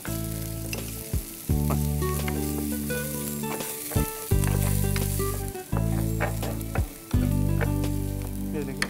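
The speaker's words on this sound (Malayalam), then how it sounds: "ഇതിനകത്തേക്ക് നമ്മൾ ചോപ്പ് ഒനിയൻ ഇടാൻ കുറച്ച് എത്ര വേണം ഒരു മൂന്ന് നാല് സ്പൂൺ ഇട്ട്" Chopped onion, three or four spoonfuls, hits hot oil and fries with a steady, fairly loud sizzle, broken by brief pauses and stirring. A sustained humming tone runs underneath.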